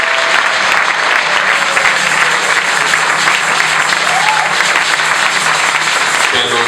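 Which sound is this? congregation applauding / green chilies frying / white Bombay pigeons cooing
congregation applauding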